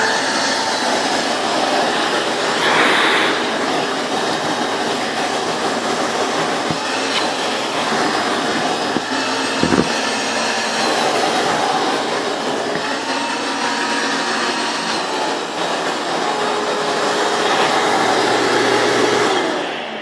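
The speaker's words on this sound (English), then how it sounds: "So this definitely has a lot more suction than just a regular vacuum." A shop vac converted to water filtration vacuums debris off a bed: a loud, steady whooshing motor roar runs close and continuous throughout, with a brief thump partway through and no speech.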